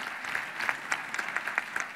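Applause from the audience at an international education congress, a light, fairly sparse patter of clapping at moderate distance, steady for about two seconds with no talking over it.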